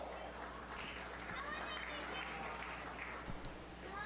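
Quiet applause from spectators at a 4-H fair sheep show, a soft, distant patter of scattered clapping in a large open space, with murmuring voices underneath.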